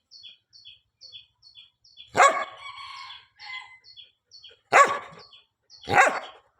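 A dog gives three loud, sharp barks close by, separated by pauses, while a repeated high chirping, like a bird or squeaky call, ticks on steadily in the background.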